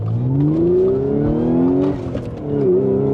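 A 2016 Audi S5 with a manual gearbox and stage 3 clutch driven hard through a turn, its engine revving loudly and steadily rising in pitch, briefly easing off, then pulling again, heard from inside the cabin.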